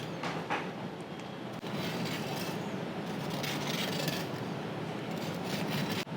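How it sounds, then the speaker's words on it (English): Repeated scraping against a surface while a restaurant reel is being filmed, a steady close, gritty rasp with a few sharper strokes running throughout and no talk over it. "Like just scrape it 2-3 times."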